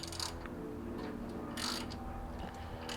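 Ratchet turning torque converter bolts loose during a teardown of a Cadillac CTS-V with a trashed block, close and quiet, with a few short bursts of clicking against a steady low hum.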